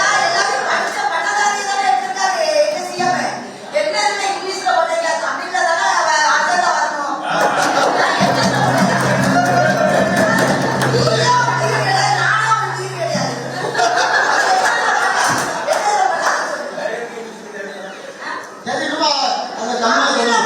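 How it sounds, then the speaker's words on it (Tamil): Councillors in a city council meeting thump on their tables in a dense burst of rapid knocks amid cheering, chatter and laughter from a crowded hall. "அப்போது கவுன்சிலர்கள் மேசையை தட்டி ஆரவாரம் செய்தனர்."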